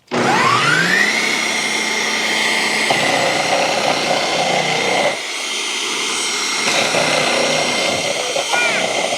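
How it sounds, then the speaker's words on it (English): A food processor motor spins up with a rising whine, then runs as a steady, loud electric hum that shifts slightly in pitch partway through, on a farm during a rainy summer day. "That's a food processor."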